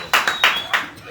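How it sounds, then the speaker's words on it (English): A few hand claps from a crowd at an opposition supporters' gathering in Mbarara, four separate sharp claps in quick succession, close and fairly loud, over about a second. "Let's clap for him."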